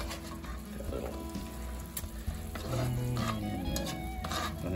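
Vegetables being stirred into meat in a hot cast iron pan, a steady sizzle and fry with scraping stirs and occasional clinks of the pan, close and continuous, with a voice at times over it.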